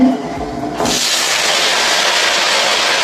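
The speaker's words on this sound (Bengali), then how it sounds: "এখানে পাঁচ ফোড়ন শুকনো লঙ্কা দিয়ে দিয়েছি তেলে এটা ভাজা হয়ে গিয়েছে" Panch phoron spices and dried red chilies fry in hot oil in a Bengali home kitchen; after a quiet second, a loud, steady sizzle starts abruptly and carries on close up.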